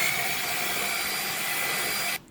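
An electric mixer beats cake batter with a steady, loud whirring drone that runs close and unbroken, then cuts off abruptly near the end.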